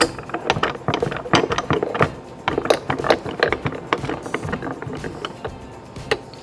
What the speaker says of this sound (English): just close the vise, and it pops it right out